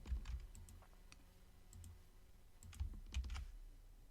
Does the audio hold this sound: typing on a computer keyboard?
yes